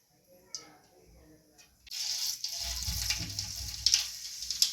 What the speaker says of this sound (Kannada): ಸಾಸಿವೆ ಹಾಕಿನಿ ರೀ ಈಗ ಸ್ವಲ್ಪ ಜೀರಿಗೆ ಹಾಕೋತೀನಿ ರೀ